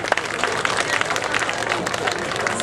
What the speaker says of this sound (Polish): Zatem ogromne brawa dla chłopców.